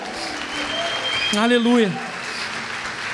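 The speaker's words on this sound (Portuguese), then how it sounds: "Aplauda o Senhor." A church congregation applauds steadily throughout, a dense wash of clapping filling the room while one voice calls out briefly over it.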